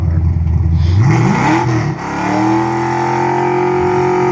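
A drag race car fitted with an X-Cam, GT40 head, Holley intake and T5 transmission revs loudly and close by, its engine note sweeping upward and then holding a steady high drone with no talk.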